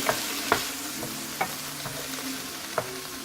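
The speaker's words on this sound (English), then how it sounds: "I think it's stir frying." Kimchi fried rice sizzles quietly in a hot pan while a utensil scrapes and taps against it a few times at irregular intervals.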